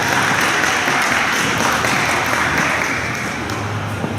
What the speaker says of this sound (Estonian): Ma teen suure aplausi meie võistlejatele tango eest